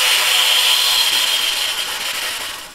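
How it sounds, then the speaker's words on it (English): Plain air blown into a trumpet with no lip buzz makes a steady, breathy hiss. It is close and alone, holds for about two and a half seconds, then fades out. "But if you just blow into a trumpet,"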